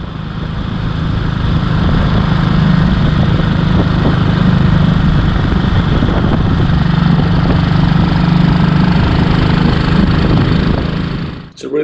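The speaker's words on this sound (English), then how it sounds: "And ahead of Malcolm, we have Gary and Kay on an AJS Model 16 from 1952" A 1952 AJS Model 16 motorcycle with rear suspension runs steadily, its single-cylinder engine making a loud, continuous throbbing drone up close for about eleven seconds before the sound briefly dips at the end.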